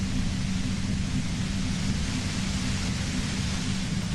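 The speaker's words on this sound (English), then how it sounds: "If you've got something really important to say, you can do it through the white noise." Radio white noise from the Disco Elysium video game, a dense unbroken static hiss with a low rumble that stays loud and even throughout.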